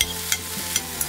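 Shrimp saganaki sizzling in a frying pan while being stirred, with a steady fry hiss and three sharp spoon-against-pan scrapes spaced through the stir.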